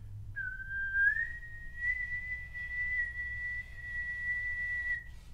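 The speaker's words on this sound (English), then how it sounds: "so if I whistle," One person whistles a single sustained note into a microphone. The note slides up slightly at the start, then holds steady and clear for about four seconds against a faint low hum.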